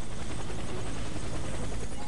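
Helicopter in a video game tutorial, a steady loud rotor roar filling the whole stretch with no clear pauses, heard alone.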